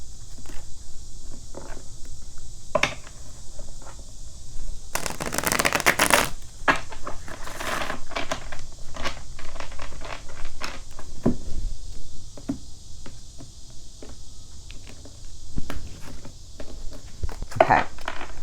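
Tarot cards are shuffled by hand during a reading: close, crisp riffling and sliding with a few soft taps, plus a louder riffle burst early on.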